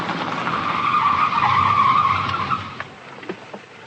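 A car skids with squealing tyres during a night chase, a sustained screech that rises and holds for a couple of seconds before trailing off, loud and close, with no voices.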